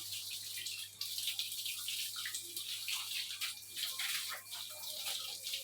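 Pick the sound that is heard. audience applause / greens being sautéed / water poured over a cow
water poured over a cow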